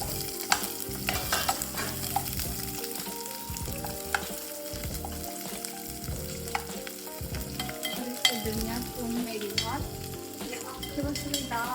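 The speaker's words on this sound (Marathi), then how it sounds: "इथे कांदे जे फ्राय करणार आहेत ते जे कापलेलं होते ते फ्राय करते" Chopped onions fry in hot oil with a dense, continuous sizzle and crackle, close and loud throughout. Occasional scrapes of stirring run through it, with no voices.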